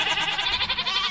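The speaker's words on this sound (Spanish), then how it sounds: "La raza son cabras de monte." Mountain-breed goats bleating in Minecraft, several loud, wavering, nasal cries running together up close with no pause.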